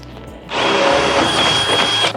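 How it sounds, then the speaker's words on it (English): A power drill fitted with a 1/2 inch bit bores into a wooden shed door header, starting abruptly and whirring loud and steady for well over a second before stopping short, with no talk. "Again, this is a 1/2 inch drill bit."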